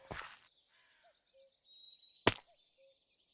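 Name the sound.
bird cawing in a video game (SMP server)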